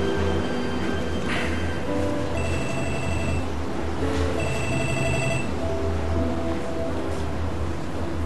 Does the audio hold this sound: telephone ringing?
yes